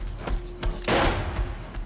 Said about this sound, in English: He's trying to shoot me. Actually, he does shoot me.